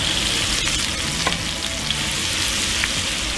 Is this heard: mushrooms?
yes